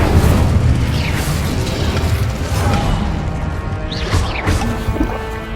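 Fiery spell blasts in the Hogwarts Legacy video game, a dense run of booming bursts and crackling impacts packed closely together, loud and continuous with no gaps.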